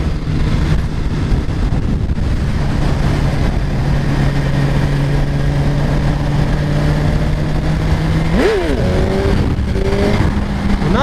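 A 2017 Suzuki GSX-R1000 sport bike engine drones at steady revs during a wheelie test ride, then climbs sharply near the end, with heavy wind rush over the microphone.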